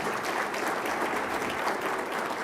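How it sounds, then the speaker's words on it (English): An audience at an opening plenary session of an HBCU research meeting applauds in a dense, steady wash of clapping that holds at an even level throughout, with no voices over it. "I think that deserves a hearty, hearty, hearty round of applause."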